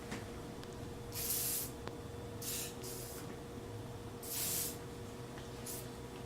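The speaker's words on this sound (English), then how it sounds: "I'm gonna spray them a little bit and let it sit" Short bursts of liquid spray hit parts that have sat untouched for a while, soaking them. Four separate hissing blasts come close and fairly loud over a steady low hum, with pauses between them.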